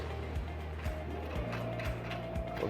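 A hex screw is worked on a mounting base with a 10 mm wrench, giving soft, close ratcheting clicks and small mechanical knocks repeating at an uneven rhythm over a faint background hum.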